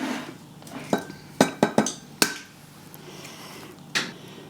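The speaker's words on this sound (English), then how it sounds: "So I'm going to start by breaking apart my eggs and my yolks" Eggs are cracked against a bowl and separated for keto buns: a series of sharp, close clinks and taps, several in quick succession, then a pause and one more, with no talking.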